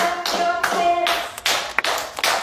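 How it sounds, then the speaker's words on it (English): Hand clapping during a children's dance-along exercise routine, a few sharp claps at uneven intervals over a background of music, recorded fairly close. "And clap your hands."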